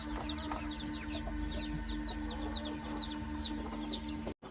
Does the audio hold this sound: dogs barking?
no